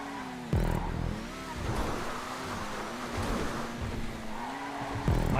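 Grotti Italy GTB sports car in GTA 5 racing at speed, its engine note loud and steady with pitch rising and falling through gear shifts, sharp revving bursts at the start and end.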